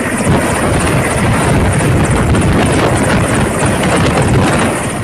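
An army helicopter on flood relief duty thunders loudly and continuously nearby, a dense rotor roar with steady chopping and wind buffeting, no voices.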